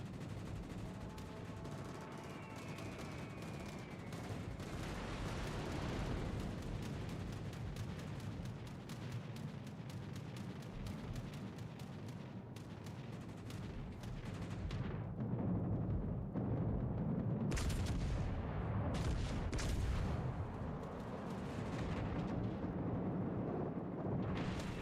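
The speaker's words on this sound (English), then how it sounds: "carpet bombs." Carpet-bombing run in the naval combat game World of Warships Legends, with a dense barrage of rapid explosions and gunfire that builds to heavy, loud booming blasts, and no talk.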